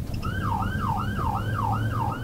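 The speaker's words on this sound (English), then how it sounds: "he kicks on the siren" The siren on a police cruiser wails close by in a fast, repeating yelp, with about five rising and falling sweeps in quick succession over road and engine noise.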